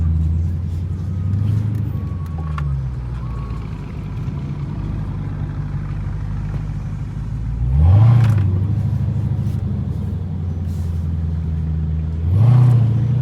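Dodge Hellcat engine rumbling low and steady while driving downtown, swelling into two short revving surges during a U-turn, with a voice talking over part of it.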